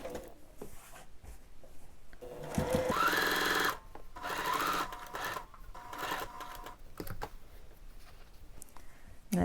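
A sewing machine stitches the neckline of a dress bodice to its lining in several runs, a loud rapid whir in bursts broken by pauses and small handling clicks.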